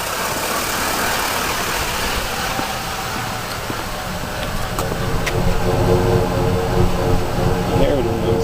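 A car engine running and idling steadily after electrical trouble, the alternator, battery or connections suspected, with exhaust note and a rougher mid-frequency rumble growing louder in the last few seconds; a person talks over it.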